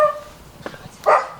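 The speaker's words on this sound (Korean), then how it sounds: "강아지도 있어요." A small dog gives a single short, sharp bark indoors in a house, preceded by faint shuffling and light knocks.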